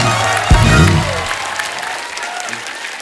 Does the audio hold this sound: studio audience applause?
yes